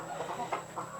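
Kadaknath chickens on a poultry farm in Uttar Pradesh, a flock of hens and roosters clucking in short, uneven bursts over a steady murmur of farmyard background noise.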